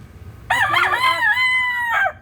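A single loud rooster crow rings out close by, long and drawn out with a rising then falling tail, over faint background noise.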